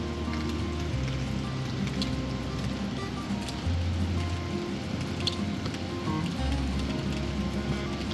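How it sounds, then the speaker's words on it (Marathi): Fine, steady rain falls continuously in the high Sangla valley, a soft even patter with a low rumbling background and occasional faint ticks, no voices. "कंटिन्यू पाऊस चालू आहे, कंटिन्यू. बारीक आहे पण कंटिन्यू आहे."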